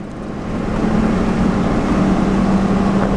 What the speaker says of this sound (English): right now, it should be shifting into second gear, and it's revved out at around 2. So hit the gas.